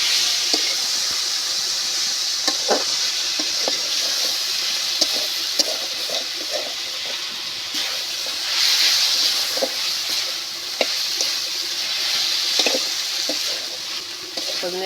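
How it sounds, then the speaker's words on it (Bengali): Drumstick leaves sautéed and stirred with potatoes in a pan, giving a steady moderate sizzle and hiss with scattered scraping stirs throughout, no talking. "সজনে পাতা এবার আমি ভালো মতো করে কষিয়ে নেব।"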